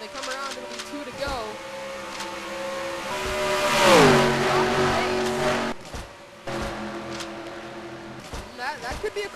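Race cars in a stock-car racing video game at Charlotte roar by, engine pitch sweeping down as one passes close, with other engines droning and revving under a commentator's voice.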